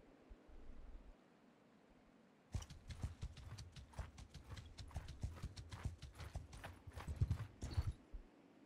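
In the video game Mount and Blade II: Bannerlord, after a quiet start, horse hooves clip-clop rapidly in a fast galloping rhythm, close and steady for several seconds.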